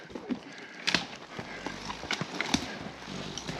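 Horse hooves clop on the ground in a few scattered steps at close range, with outdoor background noise and no clear speech.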